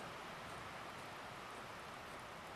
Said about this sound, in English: I recently added a bunch of ambient sounds, including this waterfall sound and the sound of the river as well